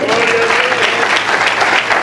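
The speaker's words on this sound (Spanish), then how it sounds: "al cual te pido un aplauso" A burst of applause from a church congregation during a sermon, dense clapping filling the whole moment, loud and steady.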